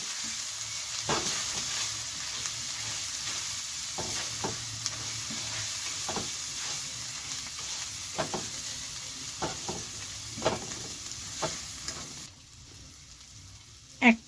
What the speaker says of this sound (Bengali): গ্রেভিটা তৈরি করব এবার আমি মশলাগুলো ভালো করে কষিয়ে নেবো